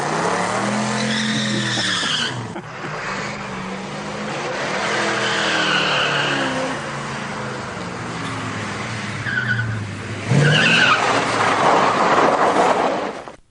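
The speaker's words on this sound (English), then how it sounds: "That's a 74 Dodge Charger." A 1974 Dodge Charger race car at State Line Speedway roars past with a loud V8 engine, rising and falling revs and tire squeal, close and sustained with no speech.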